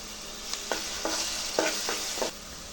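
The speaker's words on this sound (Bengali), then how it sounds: "পেঁয়াজটা ভেজে নিচ্ছি" Onions sizzle and fry in a pan for a home-style Bengali chicken curry, with a steady hiss punctuated by several soft stirring scrapes at irregular intervals.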